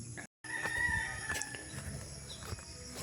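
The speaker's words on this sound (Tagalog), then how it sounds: "So kainin muna natin yung alaga nating manok dito sa mangga." Pet chickens perched in a mango tree, with a rooster crowing in a drawn-out call near the start and steady outdoor background noise throughout.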